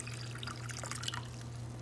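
Cold water poured into a drink, a soft continuous trickle and splash at moderate level over a steady low hum, lasting under two seconds with no voices.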